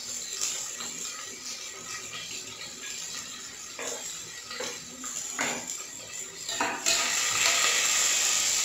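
Chopped onion with salt is sautéed in a pan for a quail fry lunch. A steady hiss comes from the pan, with light clinks of a spoon stirring against it, and the hiss grows louder near the end.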